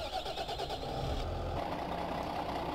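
A truck engine in the Farming Simulator 15 video game cranks and catches, then settles into a steady mid-pitched idle, heard faintly and without talk.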